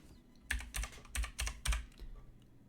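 Typing on a computer keyboard during a Pokémon Scarlet and Violet VGC team-building session: five or six close, loud bursts of key clatter in an uneven rhythm, with no talking over them.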